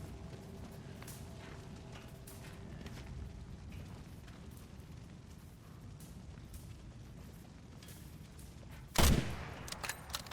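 Gunfire in Resident Evil Requiem: a low, steady rumbling game ambience, then one loud gunshot burst near the end followed by a few quieter shots.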